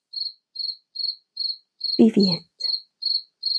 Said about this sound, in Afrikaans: Dalk moet ek saam met die kriek inval en sy loflied